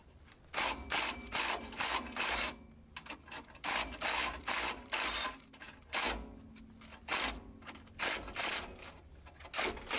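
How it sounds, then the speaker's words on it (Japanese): A car jack ratchets down as it lowers a car during a DIY tire rotation, giving a steady series of close, clicking pawl bursts in short repeated pulses, alone with no talk. "ジャッキを下ろします。"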